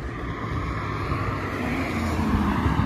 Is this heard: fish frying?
no